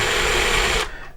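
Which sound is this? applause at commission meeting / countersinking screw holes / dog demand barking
countersinking screw holes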